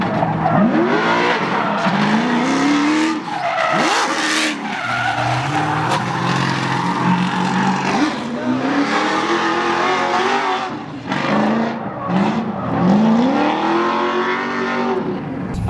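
A Formula Drift Pro 2 car drifting and shifting through gears, a loud, continuous engine roar with rising revs, repeated gear-change dips and tire squeal throughout.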